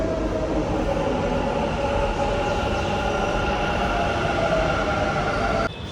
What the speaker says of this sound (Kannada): ಸೊ ಬಂತು ನಮ್ಮ ಮೆಟ್ರೋ ಟ್ರೈನು